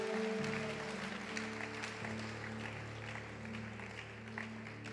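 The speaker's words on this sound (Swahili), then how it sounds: "Tumshangilie Bwana Yesu kwa makofi mazuri." A church congregation clapping together, a dense stretch of applause under a sustained keyboard chord, moderately distant and steady before gradually thinning.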